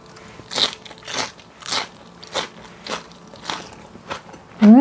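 Raw lettuce eaten with raw garlic sambal gives crisp, crunchy bites close to the mic, about seven evenly spaced crunches with quiet chewing between them, then a brief voiced sound at the end.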